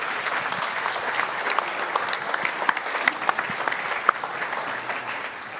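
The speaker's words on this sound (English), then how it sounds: "Let's give them another beautiful round of applause." A church congregation applauds in a sustained, dense round of clapping that holds steady for several seconds, with no talking over it.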